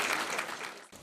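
An audience at a school event at Spitak School No. 1 claps for the children, a short, dense burst of applause that carries on to the end without a break.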